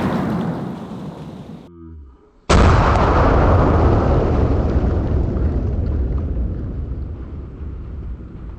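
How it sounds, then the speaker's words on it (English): A single armor-piercing incendiary .50 BMG rifle round fired into frozen turkeys: one sharp, very loud nearby blast that cuts into quiet and leaves a long, rumbling decay trailing over several seconds, with no talk. "we're gonna shoot an armor-piercing incendiary 50 BMG"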